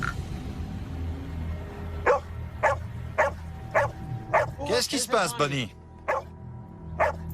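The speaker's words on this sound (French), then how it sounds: "Il aboyait comme s'il se sentait menacé." Dog barking in a forest as if it feels threatened, with a series of sharp, evenly spaced barks and a brief burst of yelps and whines in the middle. A person speaks once.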